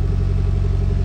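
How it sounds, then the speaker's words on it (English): A Mitsubishi Evo rally car sits at a rally meet, its engine thrumming in a loud, low, rapidly pulsing idle close by, the burble steady and even for a moment before pulling off. "this may be a long clip of the car pulling off"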